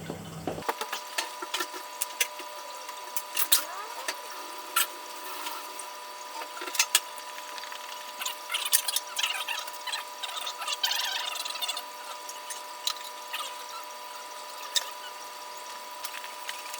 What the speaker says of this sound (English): Now that's a pump. 1800 litres an hour. Yeah, bit of water gets through this.